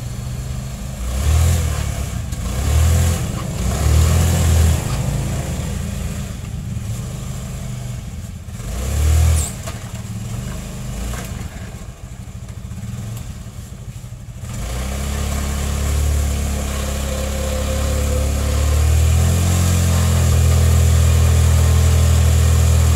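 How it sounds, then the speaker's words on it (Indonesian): A motorcycle engine roars loudly close up, revving hard and holding high throttle, with surges and dips over a continuous rumble. "saya akan tarik gas penuh ya"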